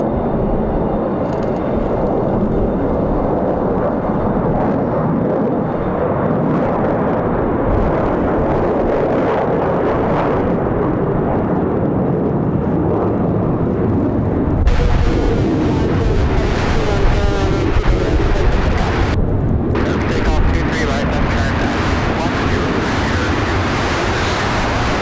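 A Republic Airways airliner takes off from Raleigh-Durham airport on a windy day, its jet engines building into a loud, sustained roar with gusts of wind buffeting the microphone and a voice talking over it.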